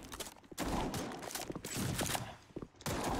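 An FG-42 in a Roblox shooting game fires in rapid bursts, a dense crackle of close gunshots broken by short pauses between volleys.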